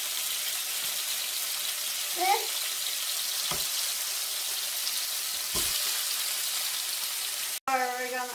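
Chicken pieces frying in a hot pan for adobo give off a steady, moderate sizzle that continues throughout. A few brief clinks and scrapes of utensils sound over it, and one sharp knock comes near the end.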